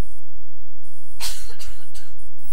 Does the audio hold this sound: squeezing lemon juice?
no